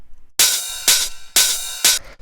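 Ride cymbal and hi-hat samples layered in a minimal tech house production: four bright, washy metallic hits at a steady pulse, each sustaining into the next, loud and alone with no talk.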